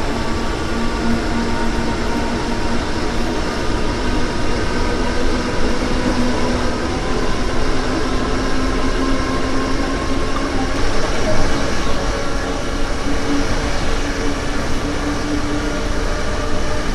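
A train in Train Sim World, running on the Rhein-Ruhr Osten route, with a steady, dense rumble of rolling wheels and machinery holding evenly at a constant loudness throughout.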